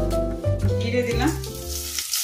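Cumin seeds dropped into a blend of mustard oil and refined oil, crackling and sizzling steadily under a faint voice and some utensil clatter, then cutting off abruptly.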